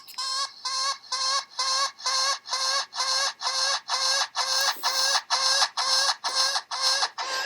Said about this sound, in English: it'll make a positive feedback loop, and it'll start to get louder and louder until it distorts and sounds horrible.